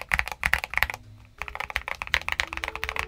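A mechanical keyboard with lubed leaf springs plus tape and foam mods is typed on in quick bursts of crisp, close clacks, with a short pause partway through.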